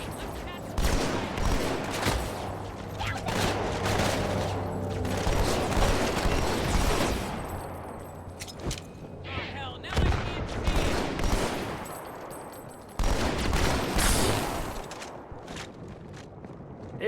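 Rapid SMG gunfire in the Halo 2 campaign rattles in long dense bursts separated by short pauses, loud and close, with mechanical clatter and other battle sounds between volleys.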